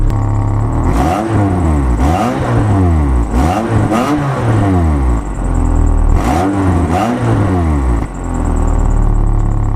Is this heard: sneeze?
no